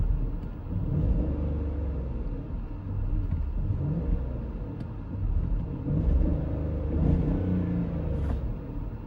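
A 2006 Range Rover L322 idles with a low, steady engine rumble that rises and dips slightly, hunting and bogging, heard close with no talk.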